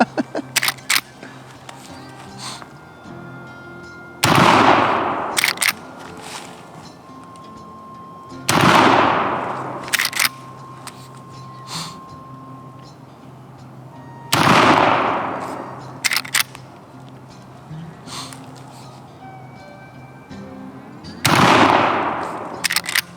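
Henry .410 lever-action shotgun firing Remington shells, four sharp loud reports spaced several seconds apart, each with a ringing tail, with metallic clicks of the lever cycling in between.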